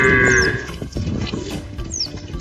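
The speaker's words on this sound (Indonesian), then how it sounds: "ternyata di sini ada seekor sapi" A toy cow lets out a loud, close electronic moo with a drawn-out bellowing tone, followed by clattering handling noises of plastic toys.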